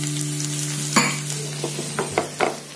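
Garlic and green chilli frying in hot oil in a pan, a continuous close sizzle with a steady hum beneath and a few clinks and scrapes of stirring toward the end.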